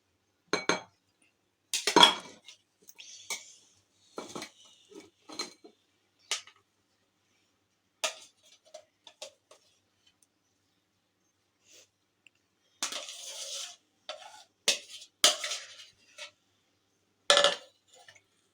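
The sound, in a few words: Russian salad being dished out, clinking serving dish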